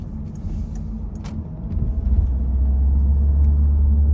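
A Peugeot 3008 on a test drive, low rumbling engine and road noise inside the cabin that swells louder toward the end, with faint ticks and clicks along the way.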